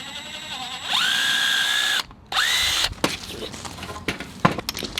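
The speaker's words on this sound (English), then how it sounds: "All we have to do is just drill through that." A power drill whines up to speed and bores through wall framing in two close bursts, a short pause between them, then loose clatter and knocks of handling afterward.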